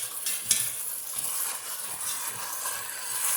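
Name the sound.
oxtails braising in bacon grease, sizzling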